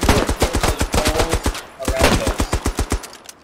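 Rapid machine-gun bursts from a Lewis gun in the World War I game Beyond The Wire, loud and close, with a short pause partway through before another fast run of shots.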